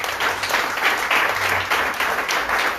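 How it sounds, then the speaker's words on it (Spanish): A church congregation applauds during a thanksgiving and praise service, a steady, dense wash of clapping that holds at an even level for the whole stretch with no voices standing out. "Puedes darle un aplauso al Señor."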